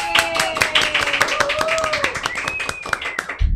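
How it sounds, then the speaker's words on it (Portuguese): Audience applause at an autism and art seminar, a dense burst of many hands clapping close by that runs steadily throughout, with voices and a hum of activity mixed in underneath. "uma salva de palmas"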